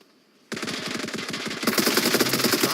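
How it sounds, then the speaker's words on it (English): Rapid automatic gunfire erupts suddenly in a team video game gunfight, a steady stream of close, loud shots that grows denser and heavier partway through as more weapons join in. "Anton's going to get into a little bit of gunfight"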